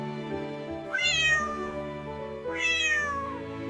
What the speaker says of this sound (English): And Ginger the cat has too.